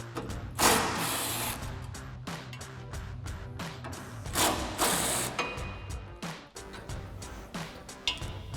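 An impact wrench with a 10mm socket removes bolts during a rear bumper install on a RAM 2500 pickup. It rattles out in repeated short mechanical bursts and hammering clatter at moderate distance. No voices.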